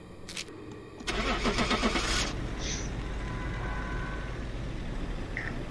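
A car engine cranks and starts, then revs briefly before settling into a steady, fairly loud idle that runs on alone without talk.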